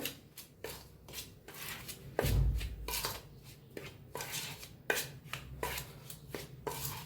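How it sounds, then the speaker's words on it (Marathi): Hot ghee is worked into flour by hand for crisp kadakani, giving a run of short, close scraping and rubbing strokes with sharp knocks against a bowl, one brief heavier thud near the middle. "ह्याच्यावर वतूया तूप छान असं मिक्स करून घेऊया"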